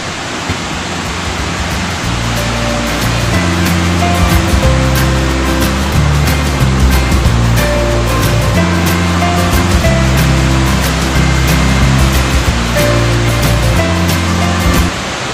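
A waterfall in the mountain forest at Mae Kampong village pours with a loud, steady roar close at hand, overlaid by low fluctuating tonal hums throughout, with no voices.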